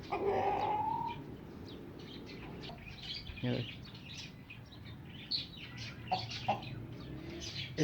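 A rooster and hens in a cage cluck and call, with a sharp squawk at the start followed by scattered, moderately close clucks and chirps, and occasional rustling in between.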